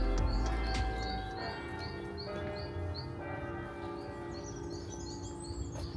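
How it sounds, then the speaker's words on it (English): York Minster's church bells ring out steadily across the city, a continuous, moderately distant peal with a few birds chirping faintly over the top. "Such Minster bells ringing."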